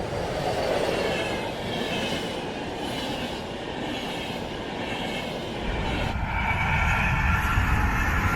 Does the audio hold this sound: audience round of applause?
no